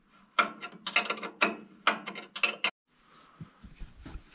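Someone tightens the pulley that drives the hydraulic motor on a broken sawmill, making close, clattering ratchet-like clicks in quick irregular bursts, followed by a pause and softer scraping metal knocks.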